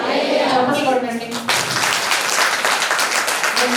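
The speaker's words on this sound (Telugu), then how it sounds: "చప్పట్లు కొట్టండి" A church congregation breaks into loud, sustained clapping from many hands, close and dense. It begins after a short stretch of a voice speaking over a PA and continues steadily to the end.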